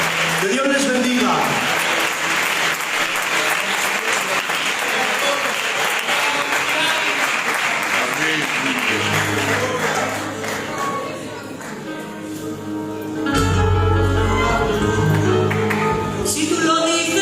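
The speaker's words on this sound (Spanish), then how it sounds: "Fuertes es para él ese aplauso." A church congregation bursts into loud, sustained applause that fills the room for most of the stretch, dipping briefly before swelling again as music and voices rise underneath.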